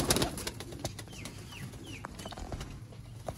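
Master Abdullah Sialkoti pigeons coo in soft, rolling calls with a few rustles and flutters, close by in a loft, with no talking.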